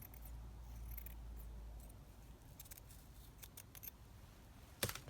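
Scissors trimming paper for a junk journal make a few soft, close snips and crisp cuts, quiet and sparse, with a low hum underneath.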